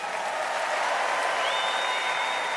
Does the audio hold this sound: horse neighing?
no